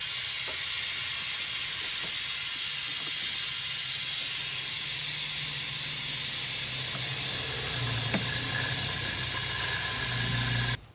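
Suction tool pulling old brake fluid from the master cylinder reservoir of a Toyota 4Runner, producing a steady, loud, close hiss that runs unbroken for about ten seconds before cutting off abruptly.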